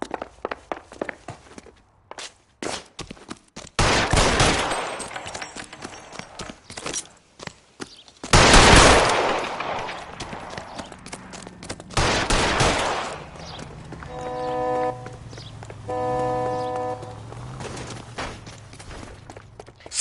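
Gunfire in the video game LA Noire, sharp scattered shots and short bursts in an uneven rhythm with quieter gaps and footsteps between, loud and close, later joined by a low tonal score.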